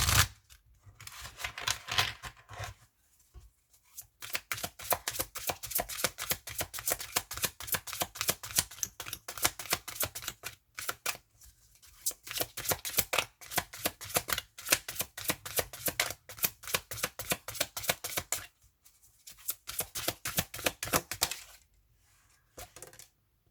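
Oracle cards shuffled by hand in long runs of dense, crisp riffling and flicking, broken by a few short pauses, close and fairly loud with no talking.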